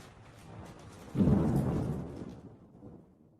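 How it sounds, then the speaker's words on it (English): A single low thunder rumble swells and fades over a couple of seconds against a soft hiss of rain. "Tonight, there is a terrible storm, and it is raining."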